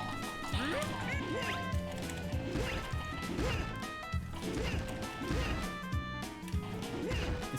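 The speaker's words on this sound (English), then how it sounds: "See, when you're smashing barrels, you really want to just get the wild charge up" Barrels smash repeatedly in the racing game Donkey Kong Barrel Blast, loud crashing hits scattered through a constant bed of bouncy game music and effects.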